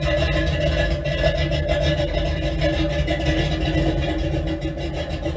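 A 1967-1968 Pontiac Firebird engine idling, giving a steady, even low rumble that stays constant and close with no talking.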